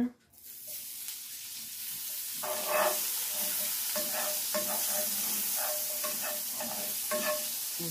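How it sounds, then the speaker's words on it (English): Butter sizzling and browning quickly in an overly hot pan for potato pancakes, a steady bright hiss punctuated by a spoon clinking and scraping against the pan several times. "my pan is a little too hot. So the butter browns pretty quickly when I put it in there"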